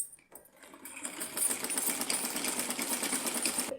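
A sewing machine stitches along the bottom hem of a small summer dress for a Laddu Gopal idol, starting up after a brief pause and then running in a steady, fast, close whir with no talking.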